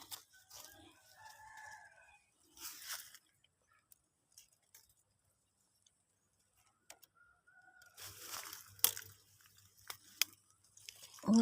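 A rooster crows twice in a rural outdoor setting, the calls separated by a long quiet stretch, fairly faint and with no talking.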